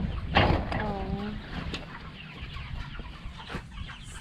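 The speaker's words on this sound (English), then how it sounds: "These are full grown chickens." Full-grown chickens clucking nearby on a farm, a loud squawk early on followed by softer scattered clucks and barnyard rustling.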